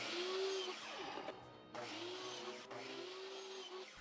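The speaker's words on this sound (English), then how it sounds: "I finished cutting the rest of the leg pieces with the miter saw" A miter saw cuts pine leg pieces for a DIY table and bench, its motor whining up, biting through the wood twice with a brief pause between cuts, fairly close and loud, with no talking.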